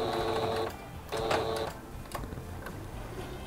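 A sewing machine stitching slowly around the curved part of a fabric owl, running in two short bursts of steady mechanical whirring with quieter handling noise between and after.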